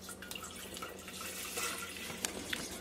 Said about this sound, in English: Now I just want to add some water to the main pot.